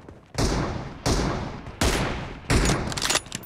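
Heavy gunshots in the mobile battle royale BGMI, four loud, evenly spaced bursts, each with a short trailing echo, with no talk.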